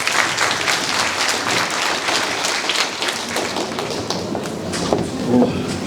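An audience claps for a speaker at a high school admissions briefing, a dense, sustained round of applause filling the room, with no voices over it.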